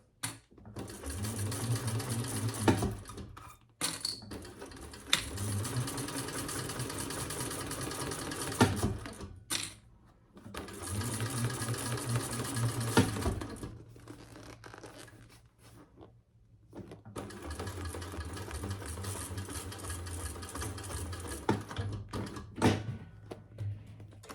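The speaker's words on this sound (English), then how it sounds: "Look at Thor sewing through those layers" A Thor sewing machine stitches through layers of fabric in several bursts of rapid needle whir, separated by short pauses, close and fairly loud.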